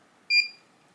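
A single clear electronic beep from a TrapLink Wave 6-channel voice-activated remote control for clay target throwing, signalling reload: a short bright tonal chirp that fades quickly, alone against quiet background.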